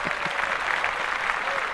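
Brief applause on a podcast, a quick burst of clapping that holds steady under faint voices for under two seconds.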